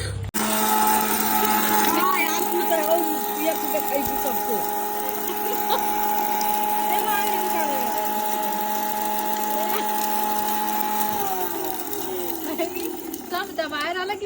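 Electric mixer grinder running steadily with a loud, high-pitched whirring hum, then winding down near the end.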